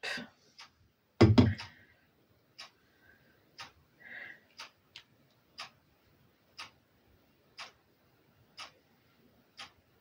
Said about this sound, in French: J'ai ma pendule, qu'est-ce qu'elle fait du bruit?